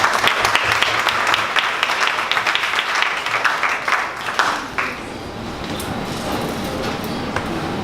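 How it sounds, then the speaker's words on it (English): An audience at a 1 Million Cups startup gathering in Dallas applauds with dense, steady clapping that fades out partway through, leaving quieter room noise and scattered handclaps. "One more round of applause, please."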